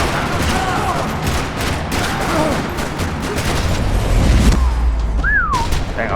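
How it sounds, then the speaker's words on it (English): Rapid bursts of gunfire crackle and pop in a busy, continuous barrage in a parking lot in the video game Max Payne 3, loud and close, with a few whooshing and ringing effects mixed in. "Another parking lot rattling with gunfire."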